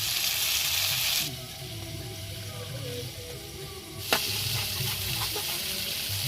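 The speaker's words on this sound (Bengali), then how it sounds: "আলু ভাজা হচ্ছে।" Potatoes fry in hot oil at a rainy campsite, a steady sizzling hiss that drops back for a few seconds and then returns at full strength, with light clinks and small sounds from cooking.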